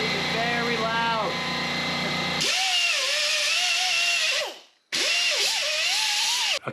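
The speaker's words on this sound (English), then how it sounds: "Let's get some sanding done." A power sander works on a car's brake calipers, a loud steady whine rising and dipping in pitch with load, briefly cutting out once before starting again.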